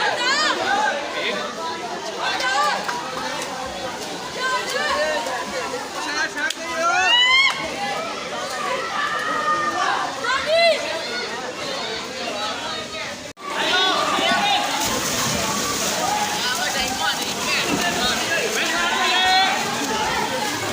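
Busy swimming pool crowded with bathers, a continuous babble of voices, shouts and splashing water close and loud, with speech running through it.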